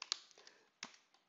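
Computer keyboard typing, a short run of quick, crisp key clicks in two small bursts, close and fairly quiet with no talk.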